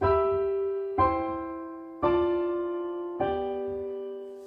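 Piano introduction to a song, played as four struck chords about a second apart, each ringing and slowly decaying, with low left-hand notes beneath sustained upper tones, close and clear with no talking.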